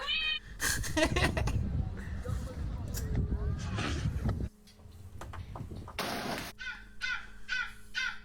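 A cat meows a few times amid other animal calls, including loud crow-like caws, with bursts of background clatter and voices in between; the calls come in short, separate clusters.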